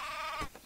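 A single short sheep bleat in the video game Craft the World, wavering and nasal, sounds close and clear with nothing else around it.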